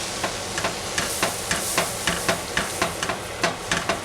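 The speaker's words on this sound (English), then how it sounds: "Put in my flour, make our roux." Flour being stirred into melted butter for a roux, a regular scraping rhythm of about a dozen strokes with a soft sizzle beneath, close and clear with no voices.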